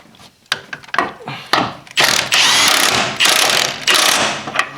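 A ratchet tightens a bolt on the engine mount of a 2010 Lincoln MKT, starting with a few short clicks and then moving into longer, loud, rapid clicking runs close by.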